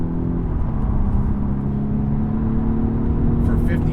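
A 2020 Polestar One, a 5,500-pound electric car on Öhlins shocks, accelerating hard with a steady loud whir and road roar that holds throughout, with a brief tire squeal near the end.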